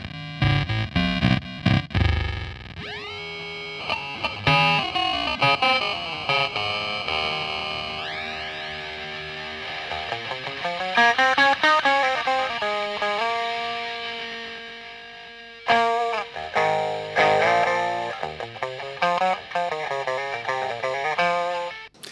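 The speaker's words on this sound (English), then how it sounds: "That really does sound now more like a ring modulator." A guitar run through a Sonicake Wave Crush pedal set to a harsh, metallic, ring-modulator-like tone, playing choppy notes, sliding pitches and sustained chords with shifting warbling overtones for over twenty seconds, without speech.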